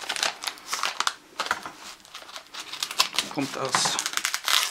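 An envelope from France is handled and torn open during a Christmas 2016 retro unboxing, with close paper crinkling, crackling and tearing in quick bursts while someone talks in German over it.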